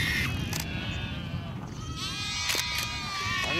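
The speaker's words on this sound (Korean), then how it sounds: "아직 푸르지는 않지만 저 초원 위에 염소떼들이 그림처럼 논일고 있다" A herd of goats grazing on open grassland on the edge of the Gobi Desert, with several bleats rising from the animals over a steady outdoor background, some near and some farther off.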